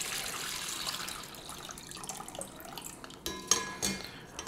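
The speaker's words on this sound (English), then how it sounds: "All we have to do is strain these things off. So we can go ahead and take out the existing water." Water poured off potatoes in a pot, a running splashy pour with clinks of the pot and lid against the sink, ending in a few sharper metallic knocks nearby.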